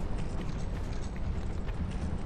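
Horse hooves clip-clopping in the video game Dark Souls II, a dense, steady patter of clatter and knocks running continuously at moderate loudness with no pauses.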